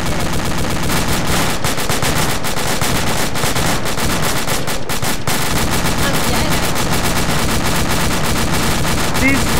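A .50 caliber machine gun fires in ArmA 2 with the ACE mod at a roadblock, in loud, dense, sustained bursts that fill the whole stretch, with faint voices mixed in.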